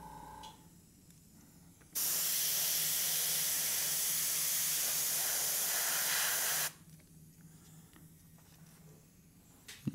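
Airbrush spraying paint through a stencil for a zombie-themed background: a steady, loud hiss starts abruptly, holds for about five seconds, then cuts off, with quiet room noise and faint handling sounds before and after.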